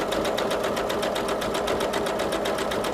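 A sewing machine stitches along a fabric edge for homemade gift boxes, giving a fast, steady mechanical rattle of needle strokes, close and continuous, with no voices.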